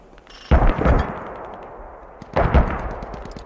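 Mortar fire in a team-based tactical shooter game, two heavy distant booming blasts a couple of seconds apart, each trailing off into a long rolling echo.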